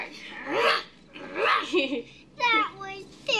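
A child imitates a dog's bark by voice, giving three gruff woof-like yelps in a row, close and clear, with no real dog heard.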